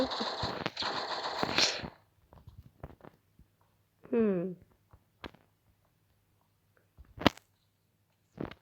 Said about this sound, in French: vous avez vu cette balle qui vient de passer juste à côté?